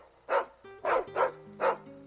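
A dog in the video game Final Fantasy XVI barks four times in a steady rhythm, moderately loud, over a soft low musical background.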